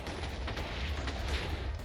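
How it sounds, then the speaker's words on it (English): Sixteen blocks of TNT detonate together in Minecraft, making a dense, continuous crackling roar of overlapping blasts that stays loud and sustained for the whole short stretch. "Explosion number 2, this time with 16 pieces of TNT"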